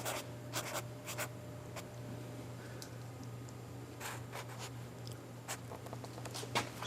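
Pen or marker scratching seam lines onto dashboard cover material, a series of light, close, dry strokes in short bursts over a steady low hum.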